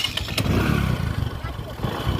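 A motorbike engine turns over and catches, giving a low sputtering idle rumble with a couple of sharp clicks early on, while a voice talks over it.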